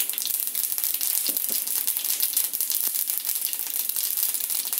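Mustard seeds and urad dal fry in a little hot oil, making a bright, crackling sizzle with a few sharp pops. It sounds close and steady throughout, with no talk.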